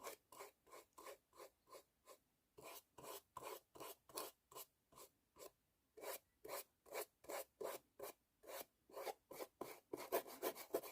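A small paintbrush rubs wood stain onto a wooden Christmas house decoration, producing rhythmic close scratchy strokes, about thirty evenly spaced brushes with short pauses between them.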